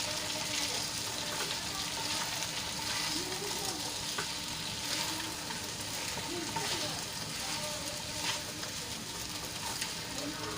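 Sabudana khichdi with salt and peanuts is stirred in a hot pan, giving a steady sizzle and scraping under a constant frying hiss with no pauses.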